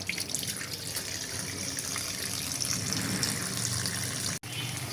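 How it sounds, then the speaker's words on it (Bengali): Rohu fish pieces are washed with salt under running water in a home kitchen. Continuous close tap water gushes and splashes, with faint handling noises and one brief break near the end. "তো আমি লবণ দিয়ে ভালো করে মাছগুলো ধুয়ে নিতেছি।"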